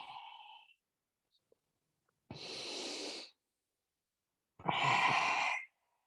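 Two slow, audible breaths taken during a yoga forward fold (Uttanasana), each lasting about a second, spaced apart with silence between them, close and clear after a brief voice at the start.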